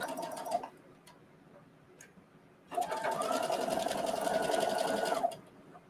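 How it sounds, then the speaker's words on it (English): A serger running a 3-thread narrow overlock along quilted fabric edges makes a close, loud mechanical chatter in two bursts, a short one, then a pause with faint ticks, and a longer run of about two and a half seconds. "after I sew it through a serger, just a 3-thread narrow overlock to keep the edges from fraying"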